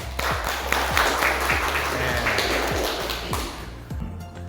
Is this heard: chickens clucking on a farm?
no